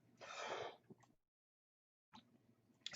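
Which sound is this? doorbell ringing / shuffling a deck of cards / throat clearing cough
throat clearing cough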